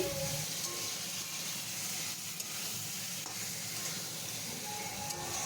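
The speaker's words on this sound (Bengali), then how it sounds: "এবার আমি ভেজে রাখা আলু পটলটা দিয়ে দিচ্ছি তো এটা আমি এখন ভালো করে একটু কষিয়ে নিচ্ছি" Fried potato and pointed gourd being sautéed in spice paste in a pan, with a steady low sizzle and occasional stirring scrapes running throughout.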